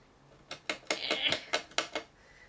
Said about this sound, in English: That's my rabbit. He's chewing on his log.